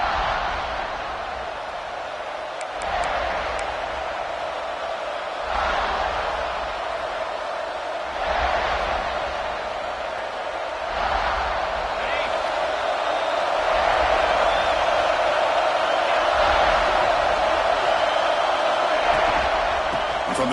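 A steady stadium crowd roar from an American football video game sits under continuous commentator talk and swells louder toward the end.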